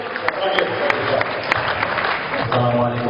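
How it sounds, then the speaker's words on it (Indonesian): An audience at a graduation and anniversary ceremony at an Islamic boarding school claps briefly, with scattered sharp hand claps over a room murmur and a voice near the end. "Tepuk tangan."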